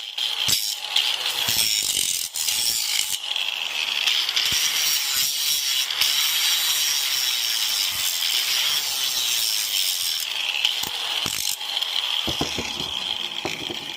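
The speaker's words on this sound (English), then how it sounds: "Grind off this little extra sharp edge." An angle grinder working a sharp edge off a steel steering column bracket, a loud, steady, high-pitched continuous grind held close for the whole stretch, with brief dips and scrapes but no talking.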